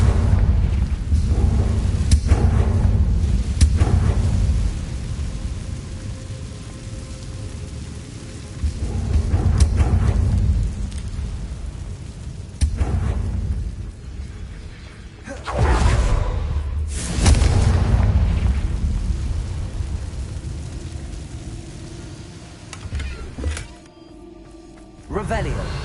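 Fiery Confringo blast spells go off in Hogwarts Legacy as a series of loud, booming bursts with rumbling tails, spaced irregularly and mixed with a voice talking.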